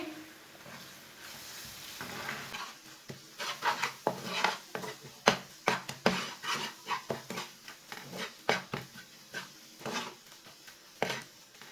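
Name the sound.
mixing eggs into masala in a pan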